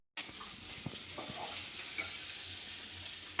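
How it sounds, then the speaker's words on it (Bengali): Potatoes sizzle in hot oil in a pan, a steady close frying hiss throughout with a few soft stirring knocks, no voices. "মাছের আলুটা ভেজে তারপর মাছগুলো ভাজবো"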